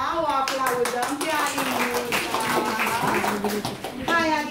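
Clapping from an audience at a school European Languages Day event rattles along while children's voices call out and talk over it.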